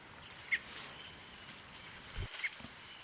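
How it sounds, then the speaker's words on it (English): Thin, high seep calls of a redwing passing overhead on a quiet autumn night, a few faint, brief notes spaced apart over near silence. "you can very often hear this very thin seep seep call as the flocks fly over"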